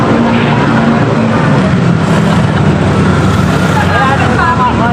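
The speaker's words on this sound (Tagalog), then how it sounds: "Maraming sasakyan." Heavy road traffic of many vehicles, a loud continuous roar of engines and tires passing close by, with voices mixed into the noise.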